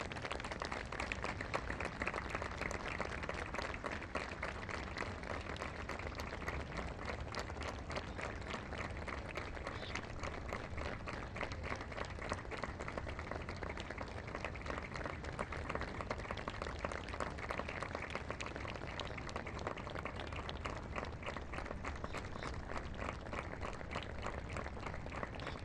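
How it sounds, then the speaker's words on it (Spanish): Stadium crowd applauding at a women's football match between Boca and Excursionistas, a steady wash of clapping that holds evenly and fairly faint throughout, with no talk over it. "y ahí está el aplauso."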